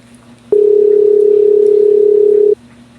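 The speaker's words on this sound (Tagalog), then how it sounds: "Kanina pa ako tawag ng tawag, wala pa rin, hindi pa sinasagot." A telephone tone plays while a call is placed and not yet answered. One steady electronic tone lasts about two seconds over a quiet background, then stops.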